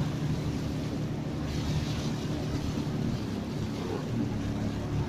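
A speedboat engine with a dead spark plug drones steadily in open air, with wind noise over the low, continuous engine rumble.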